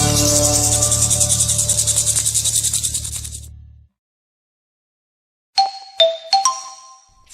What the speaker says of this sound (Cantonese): 上課了，上課了，鐘聲響了